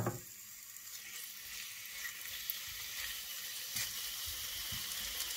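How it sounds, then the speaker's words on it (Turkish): Meat sizzles steadily in a pan of cold-pressed olive oil, a continuous close frying hiss with faint stirring and small bursts, no voices. "Etlerimizi tavaya hemen ilave ediyoruz"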